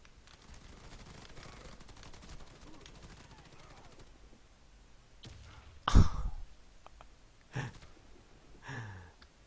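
Gunfire in the first-person shooter Warface, with an early stretch of rapid automatic rattling, then a loud burst and a few sharper shots later, mixed with breathing sounds.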